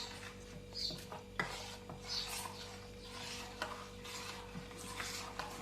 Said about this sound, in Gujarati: બધો મસાલો જે ચણાનો લોટ અને નાખ્યો ને એ સરસ મિક્સ કરી દેવાનો છે